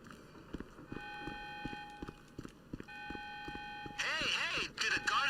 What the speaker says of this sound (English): Because I hear the alarms from here.